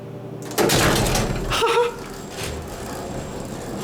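A Schindler 330A hydraulic elevator door at a high school slides open roughly, making a loud, close scraping rumble that runs for over a second before settling into a softer mechanical hum.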